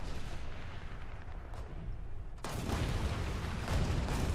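A QF 3.7 Ram tank destroyer's gun fires in the War Thunder video game: a sudden loud blast that rolls into a sustained, heavy roar of battle noise, following a quieter stretch of ambient rumble.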